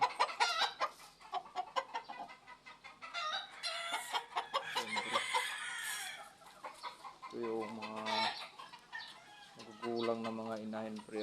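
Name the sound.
chickens, hens clucking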